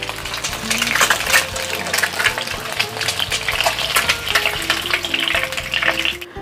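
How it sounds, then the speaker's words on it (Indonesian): Spice ingredients for a balado egg seasoning fry in hot oil until lightly browned, giving a steady, dense sizzle and crackle with a few soft clinks and stirring scrapes, close and continuous without pause. "Digoreng sampai sedikit kecoklatan saja, tidak sampai berkulit ya."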